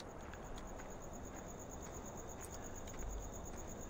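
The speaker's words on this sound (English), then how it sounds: "The wind blowing. Lots of sounds. Crickets," Crickets chirp steadily through a night scene in Farming Simulator 17, a continuous high, even trill over a soft, airy background with no voices.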